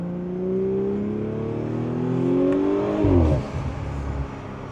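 A B9 Audi engine with a carbon fiber intake revs up through a short acceleration pull, pitch rising steadily before a sharp drop and a crackling burst as it shifts, loud and close.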